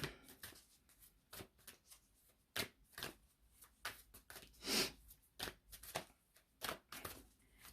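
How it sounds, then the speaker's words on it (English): Moonology oracle cards being shuffled by hand in a series of quick riffling bursts with brief pauses between them, close and fairly soft, no talking. "Let's get a Moonology card out."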